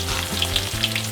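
Shallots and garlic sizzle steadily in hot oil for tomato sambal, a close, continuous crackling fry with a few brief stirring shifts.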